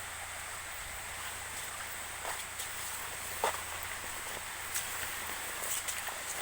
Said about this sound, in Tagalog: Nakusog kaya ng tubig diha.